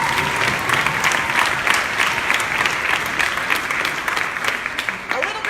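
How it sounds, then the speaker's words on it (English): Audience applause at a summit's closing remarks: dense, sustained clapping from a sizeable crowd, loud and steady for about five seconds before thinning slightly at the end. "They deserve to get a huge round of applause."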